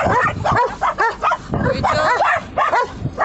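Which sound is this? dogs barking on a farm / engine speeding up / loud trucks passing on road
dogs barking on a farm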